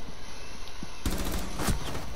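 Rapid automatic MP5 fire in the shooter game Rainbow Six Siege starts halfway through as a dense, loud, close burst of shots over steady game ambience, with no talk.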